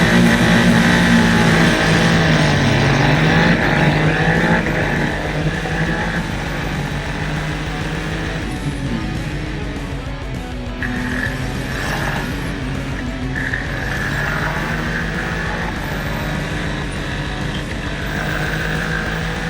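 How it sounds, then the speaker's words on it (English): Super Formula Lights race cars at the SUGO circuit in Japan scream past as a pack, with a loud layered engine whine and droning that shifts in pitch as the cars accelerate through the opening laps. "Nomura had a good start and so had Sano, who moved up to second heading into turn 1"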